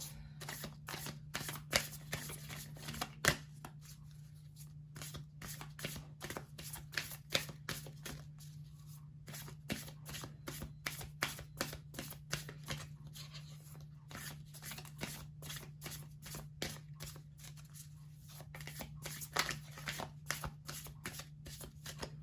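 Oracle cards are shuffled continuously and close up, a dense run of quick papery riffles and taps over a faint steady low hum, with no talking.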